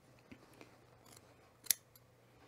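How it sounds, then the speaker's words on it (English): Scissors cut through fabric layers of a puffer vest during sewing, a quiet setting with a couple of soft snips followed by one sharp, distinct closing snip near the end. "I pick up the layer and cut to the corner."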